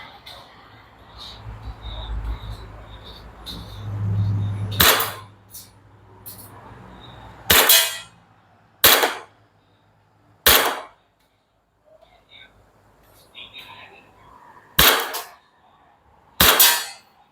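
A WA M1911A1 gas airsoft pistol fires at a box target fifteen metres away, giving seven sharp, loud cracking shots spaced unevenly with silence between them, after some quiet handling noise and low murmuring at the start.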